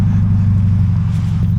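A Toyota GT86 with a catback exhaust drones loudly at close range, a steady low exhaust rumble with no one speaking over it.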